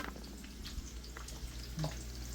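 Food sautéing in a pan, with onions about to go in, making a low, close, steady frying hiss with faint stirring scrapes and a couple of soft knocks.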